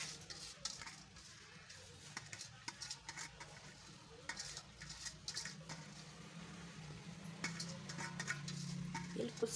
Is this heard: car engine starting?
no